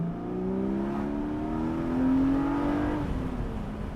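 A 2022 Porsche Boxster GTS with its 4.0 engine pulls while driving with the windows open, a smooth rising engine note swelling mid-way, close and steady.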